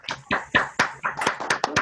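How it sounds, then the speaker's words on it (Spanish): Scattered hand claps come through open microphones from an online conference audience, a handful of distinct, uneven claps close up, some overlapping toward the end. "vamos a activar todos los micrófonos para un aplauso"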